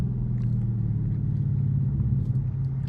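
Close, loud, steady low engine rumble from a 2023 Dodge Charger Scat Pack driving and accelerating, heard from inside the car with no voices.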